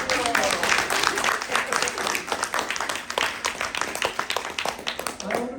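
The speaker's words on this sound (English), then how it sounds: "Okay, louder applause." A crowd claps steadily and loudly, a dense patter of many hands continuing without pause.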